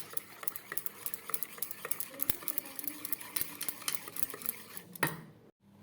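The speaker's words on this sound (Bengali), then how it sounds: "এটাকে এখন ভালো করে জল দিয়ে মাখবো।" A utensil stirs and mixes a batter of turmeric and baking soda with water in a bowl, making rapid, irregular scraping and clinking strokes close by, steady for several seconds before stopping abruptly near the end.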